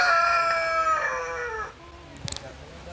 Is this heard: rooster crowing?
yes